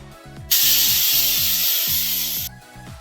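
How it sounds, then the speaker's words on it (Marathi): A pressure cooker of beans lets off a loud, steady hiss of steam for about two seconds, cutting off abruptly, with soft background music before and after. "त्याला झाकण लावून आपण एक 2 ते 3 शिट्ट्या काढून घेऊया"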